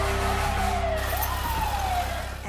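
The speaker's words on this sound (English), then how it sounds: "hear this just deafening roar of fire engines and police cars" Sirens of fire engines and police cars wail at the World Trade Center attack scene, a loud, continuous rising and falling tone over a dense, steady roar of traffic and city noise.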